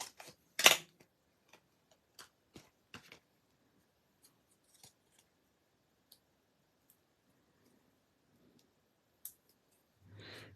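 Scissors snip through a piece of card stock with a sharp cluster of close clicks at the start, followed by scattered quiet snips and ticks in otherwise near silence.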